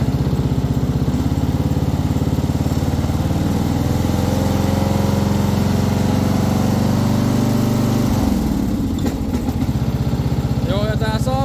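A Partner Caravan 12-100E riding lawn mower engine runs steadily and loudly close by, then struggles to hold idle, its pitch sagging and stumbling near the end.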